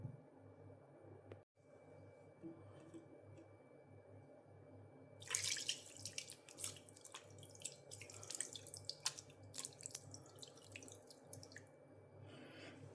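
Water poured from a tap into a vessel for a pressure-cooked beef roast, a steady close splashing stream that starts midway and runs on with bright spattering bursts.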